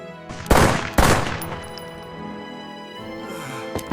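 A pair of loud handgun shots fire in quick succession, then the reverberation fades into a quieter background with faint clatter.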